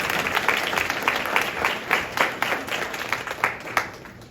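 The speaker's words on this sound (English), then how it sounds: "Can we please give them a round of applause?" An audience at a high school scholarship award ceremony claps steadily for the recipients, a dense wash of many hands with a few sharper claps standing out, moderately loud and with no talking over it.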